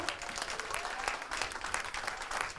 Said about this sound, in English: Can we please start clapping right now for the president of Jack and Jill, Mid-Hudson chapter